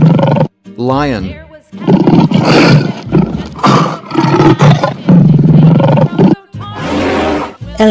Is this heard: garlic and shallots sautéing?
no